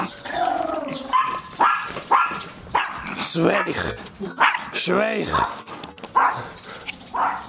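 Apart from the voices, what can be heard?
small dog barking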